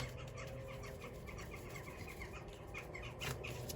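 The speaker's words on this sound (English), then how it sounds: "there's loads of birds above me right now" Birds chirp and call overhead in short, scattered bursts over a steady outdoor background, fairly faint and continuous.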